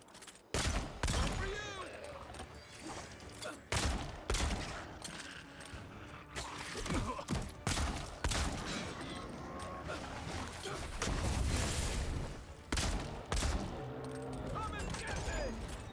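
Pistol gunfire in the video game Skyvowed, a rapid string of sharp shots and bursts that keeps up throughout, layered over in-game mechanical clanks and a voice talking.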